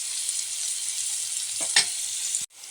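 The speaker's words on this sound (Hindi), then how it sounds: "अब अच्छे से इसको हम तलाने देंगे। मछली का जैसा इसको तलना है" Food frying fish-style in hot oil in a pan, an even crackling sizzle close by, with a couple of stirring knocks and a brief clatter before it dips and resumes.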